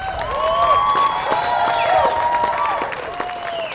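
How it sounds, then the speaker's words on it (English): A crowd at a peace rally applauds, with scattered claps under rising and falling whistles and cheers, fairly loud throughout. "Give a round of applause, ladies and gentlemen."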